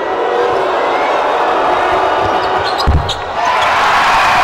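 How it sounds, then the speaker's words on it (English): A large crowd jeers a player at a pro basketball game in an arena, a loud sustained roar filling the space, with a sharp thud near the end. "You can hear the crowd giving it to Kyle Jeffers on his home floor."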